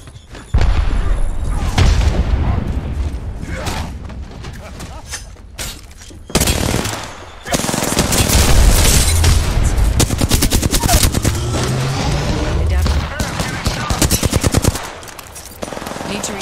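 Rapid gunfire bursts and explosive booms from an Apex Legends firefight, including a frag grenade blast, loud and nearly continuous with brief pauses between volleys.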